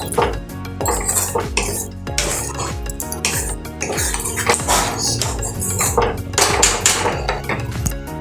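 Spice masala for Bengali rohu kalia is stirred in a pan, the metal spoon scraping and clanking against it in a loud, rapid, continuous rhythm, close up, with a brief cough among the clatter.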